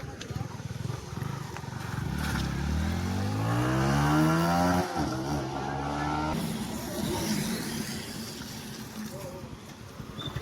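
A modified Yamaha FZS motorcycle setting off for a ride, its engine revving up in a rising, then falling whine that is loud for several seconds before settling into a steadier hum, with voices in the background.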